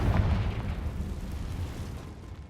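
A Confringo spell blast in Hogwarts Legacy, a loud, dense, rumbling explosion that sustains for a couple of seconds before starting to fade, with no voices.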